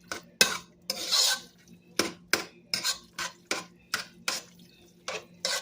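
Mashed sweet potato pie filling is mixed in a bowl, with a utensil scraping and knocking against the sides in a steady series of short strokes, close and moderately loud, without talk.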